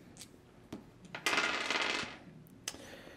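Six plastic battle dice from the Clash! Dawn of Steam board game clicking and rattling as they are handled, a few sharp close clacks and a brief tumbling clatter in the middle, no speech.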